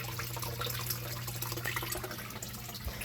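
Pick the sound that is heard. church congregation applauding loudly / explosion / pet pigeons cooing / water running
water running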